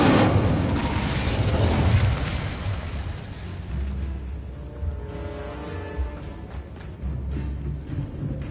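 A loud, roaring burst of the Incendio fire spell in Hogwarts Legacy fills the opening seconds, then settles into a lower rumble with scattered magical crackles and tonal effects.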